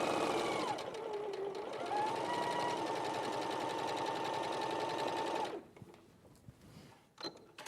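A sewing machine stitching fabric runs in a fast steady whir for about five seconds, then stops, leaving quieter handling noises and a few faint clicks.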